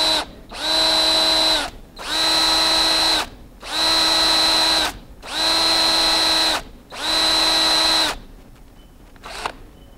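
A power drill drilling metal whines at a high, steady pitch in five long bursts separated by short pauses, loud and close.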